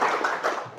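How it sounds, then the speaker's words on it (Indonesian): Brief applause from a classroom audience of students, a short cluster of hand claps lasting under a second, close and moderately loud, fading slightly toward the end. "Tepuk tangan luar biasa."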